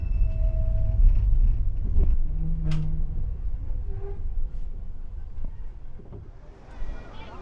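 A low, steady rumble of a tram rolling along Blackpool's Golden Mile, with muffled voices nearby and a brief higher whine partway through.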